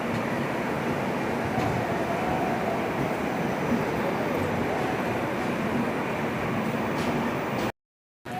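The Tamil Nadu Sampark Kranti superfast express pulls out of Chennai Egmore station with a steady, dense rumble of wheels and carriages, heard from on board, continuous and fairly loud until a sudden cut near the end.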